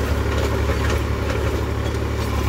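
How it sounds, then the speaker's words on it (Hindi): A farm tractor engine runs in low gear, a steady loud low rumble that holds constant throughout with no talking. "अब देखिए चला ट्रैक्टर, पहले के लो में चला रखा"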